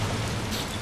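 Heavy rain falls in the video game Resident Evil 3 Remake, a dense, steady hiss of downpour with a low rumble beneath, continuous throughout the brief moment.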